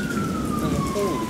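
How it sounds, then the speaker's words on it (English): An ambulance siren wails somewhere nearby during a tropical storm, one long falling tone carried over the constant hiss of heavy rain and wind. "there's been a lot of ambulances going on around here."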